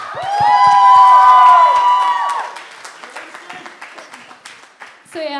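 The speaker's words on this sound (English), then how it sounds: "give yourself a round of applause, pat on the back" Audience at an Indian student cultural night breaks into loud, sustained applause with cheering and whoops, peaking early then tapering into scattered claps and shouts.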